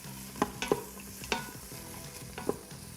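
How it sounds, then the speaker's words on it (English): Onion and celery sautéing in an Instant Pot, with a faint steady sizzle under several sharp clacks and scrapes of a utensil stirring the vegetables around the pot, no talking. "you're just gonna stir that around a little bit"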